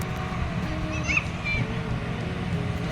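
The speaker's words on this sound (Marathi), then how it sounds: "ट्रॅक्टर चालू आहे म्हणून असा आवाज येतोय" A low, steady engine rumble runs throughout, with wind noise and faint higher tones over it; moderately loud and continuous.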